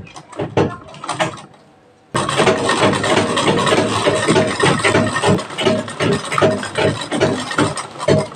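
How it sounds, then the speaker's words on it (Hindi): A sewing machine runs double stitching on a blouse: a few short bursts and a brief pause, then a loud, steady rapid needle chatter that continues to the end. "देखिए हम इस पे डबल सिलाई लगा लेंगे।"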